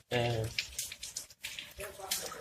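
Water gushing out of a fire sprinkler pipe after its plug is removed, splashing and running in uneven bursts close by, with a voice over part of it.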